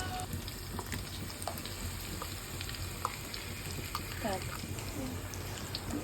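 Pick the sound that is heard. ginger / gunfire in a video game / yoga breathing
ginger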